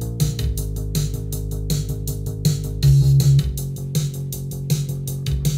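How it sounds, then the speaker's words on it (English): A synthesizer bass line pulses in a steady groove beneath a busy electronic beat with crisp hi-hats, playing loud and continuous throughout. "I added this bass line and it sounds like this"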